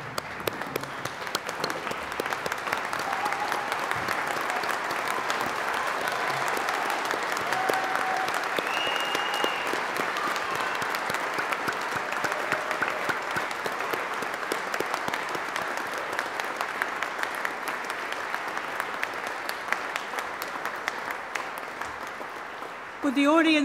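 At a university graduation ceremony for the Faculty of SET, a large standing audience gives long, sustained applause to the graduates, a steady wash of clapping with faint voices murmuring underneath before it stops abruptly at the end.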